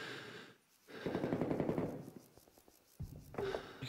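Bursts of automatic gunfire in the Vietnam War shooter Rising Storm 2 Vietnam rattle in dense volleys, with a brief lull, then more rapid shots and distant battlefield noise.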